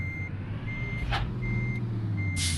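Intermittent electronic reversing beeps from a city bus backing up in the mobile game Mobile Bus Simulator, sounding over a low engine idle, with a couple of short hissing bursts between the beeps.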